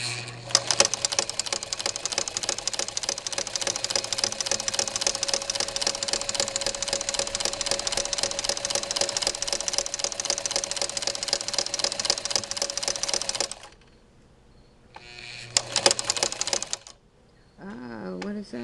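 A Singer 15-91 sewing machine fitted with a flower foot stitches a wide zigzag, making a fast, steady mechanical whirring and ticking for about thirteen seconds, then a short burst after a pause, close and alone.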